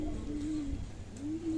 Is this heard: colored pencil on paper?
no